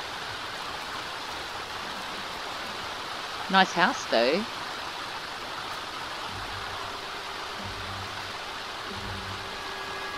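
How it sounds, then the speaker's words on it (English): Rain falls in The Sims 4 as a steady wide hiss that runs for the whole stretch. A voice speaks briefly over it partway through. "You got caught in the rain."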